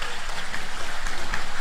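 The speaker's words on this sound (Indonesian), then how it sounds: "tepuk tangan sing banter sampean" A crowd at a religious sermon claps together in a steady, rhythmic burst of applause, close and fairly loud, with no speech over it.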